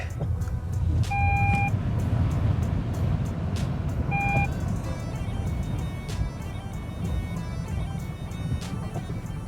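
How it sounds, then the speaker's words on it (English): A car's parking sensors beep in short electronic bursts, two distinct tones at intervals, while the car drives through deep flood water during a storm in Snowdonia, with splashing and engine rumble beneath. "Even my parking sensors are going off"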